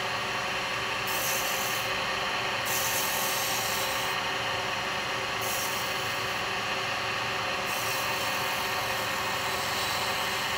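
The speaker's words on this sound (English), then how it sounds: "I'm going to use the detail chisel. I'm just going to roll this over." A carbide detail chisel cutting wood on a spinning lathe gives a loud, continuous rushing scrape over the motor's hum, with the cut easing and returning in a few swells.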